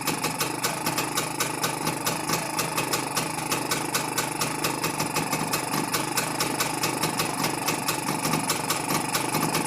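A Rajdoot 175 motorcycle engine idles steadily at close range during carburetor tuning, a dense, even mechanical chatter with a faint rise in revs and no voices.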